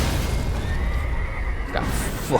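A horse neighs and whinnies in the video game Elden Ring, a loud close call over a low rumbling backdrop, with a brief extra snort near the end.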